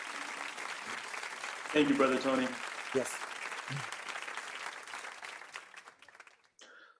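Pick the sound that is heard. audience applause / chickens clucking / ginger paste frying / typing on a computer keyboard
audience applause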